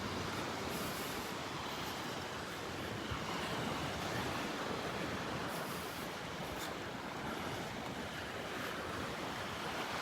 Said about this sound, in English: The ever-changing Area 5 beach at Delnor-Wiggins.